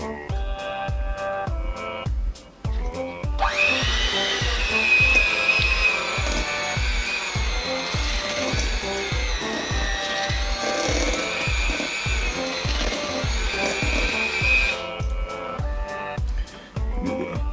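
Blender blades churn through a thick, sugary dessert mixture. A loud motor whirs for about ten seconds, over a steady pulsing rhythm of blades catching and thumping before and after.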